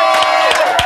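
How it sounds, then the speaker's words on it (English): A studio audience at a 2010 Xtra Factor results show cheers and shouts for Alexandra, a loud, dense burst of whoops and crowd noise with a few sharp peaks, all packed into under a second. "A massive round of applause,"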